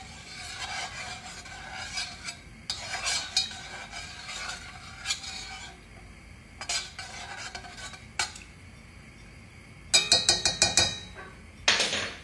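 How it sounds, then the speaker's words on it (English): Food being stirred in a cooking pan with a utensil, scraping and clattering strokes in bursts, some quick rhythmic scrapes near the end, over a soft sizzle-like background. "Stir this around."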